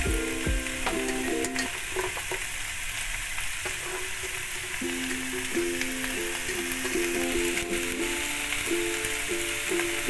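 Yard-long beans fry steadily in a pan, a continuous loud sizzle with occasional stirring clinks and scrapes, no voices over it.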